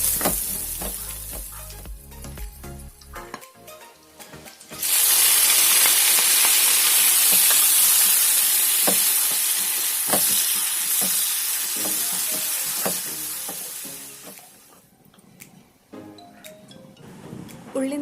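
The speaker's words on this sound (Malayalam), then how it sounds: "ഇതിലേക്ക് നമ്മൾ മുറിച്ച് വെച്ചിരിക്കുന്ന മുളകും തക്കാളിയൊക്കെ ചേർത്തിട്ട് നല്ലോണം ഒന്നുകൂടി വഴറ്റിയെടുക്കാം" Chopped chili and tomato sautéing with salt in a pan for a crab fry give off a loud, steady sizzle and hiss that swells sharply after a quieter stretch of stirring, with scraping and clinks of the spoon against the pan.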